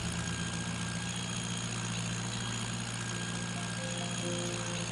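A Rakovica tractor idles steadily in Farming Simulator during a 1954 beet harvest, its engine a constant, even drone with a low rumble that holds unchanged throughout.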